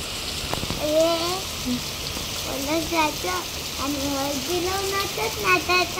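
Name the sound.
rain falling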